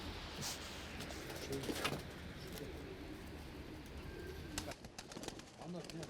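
Pigeons coo softly and repeatedly nearby in a loft, with faint wing flutters and background chatter in a quiet outdoor setting.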